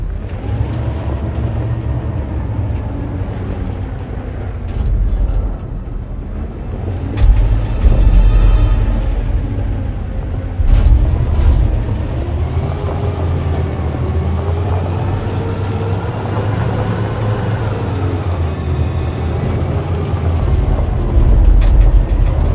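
A truck in the video game Detroit: Become Human starts up and drives, with a loud low engine rumble, hissing air-brake bursts, mechanical clunks and whining revs rising and falling throughout.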